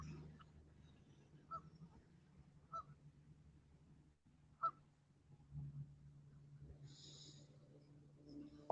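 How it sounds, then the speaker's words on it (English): Geese honk faintly in the distance, a few short scattered honks over a quiet low hum, with a higher-pitched squeal appearing late. "I hear them geese in the background."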